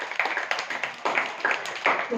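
An audience at a children's festival gives a round of applause for Shyam Prabhu, bursts of hand claps coming in uneven clusters, fairly close, with a voice mixed in.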